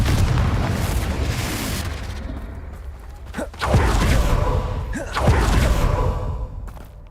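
Heavy booming explosions from Bombarda and Confringo spells in Hogwarts Legacy, a rolling rumble punctuated by several sharp blasts a second or so apart.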